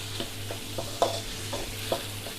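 Liver frying in a pan for a spicy Thai liver dish, a steady low sizzle broken by a few soft scraping stirs at an even pace, with no talking.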